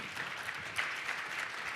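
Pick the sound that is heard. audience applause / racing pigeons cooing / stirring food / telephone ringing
audience applause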